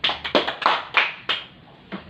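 A small class of students in an Islamic studies lesson claps in short bursts, about seven distinct slaps in an uneven patter, close and clear, then the claps trail off.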